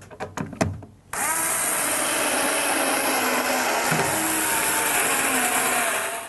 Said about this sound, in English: it's now time to put in the tub screws